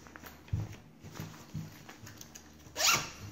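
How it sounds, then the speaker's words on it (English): A few soft handling bumps and rustles, then a quick pull of a zipper on a fishing weigh sling near the end, close and fairly quiet with no talking. "So on the sides, you've got zippers."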